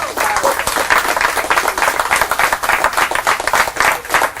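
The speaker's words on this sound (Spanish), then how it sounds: "Dale un aplauso a Él" A church congregation bursts into sustained clapping, loud and continuous with uneven rhythmic pulses, filling the room over a few seconds.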